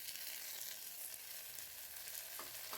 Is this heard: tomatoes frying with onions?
yes